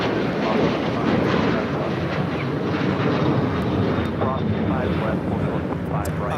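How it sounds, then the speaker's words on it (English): Alaska Airlines Boeing 737-900ER taking off at LAX, a steady broad jet roar that stays loud and continuous throughout, with faint voices mixed in. "This flight taking off to Nassau"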